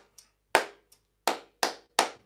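Close hand claps in a body percussion pattern: a few faint light taps mixed with four strong, evenly spaced claps, each ringing briefly before silence, performed alone with no talk.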